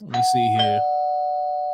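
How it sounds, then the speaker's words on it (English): A doorbell chime rings once inside a home during a live show, its sustained ding tone lingering and slowly fading after a person speaks briefly over the start. "Oh, that's the doorbell."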